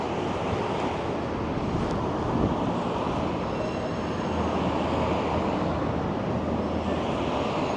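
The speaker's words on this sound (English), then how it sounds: "Ooh, it is windy. I've got a wind muff on the microphone, so hopefully that's killing all the wind" Strong wind buffeting an outdoor microphone fitted with a wind muff on a Toronto evening, a constant low rumbling roar with gusty swells and no speech.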